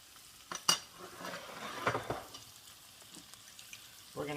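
Butter goes into a hot pan with lobster for pasta al diavolo, producing a soft sizzle with a few scraping stirs and light utensil clinks, fairly quiet and close.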